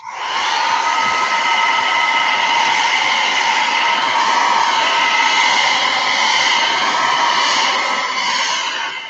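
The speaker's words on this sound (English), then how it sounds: "where's my hair dryer?" A hair dryer blows steadily and loudly from start to finish, a constant close-up whooshing hum with no talk over it.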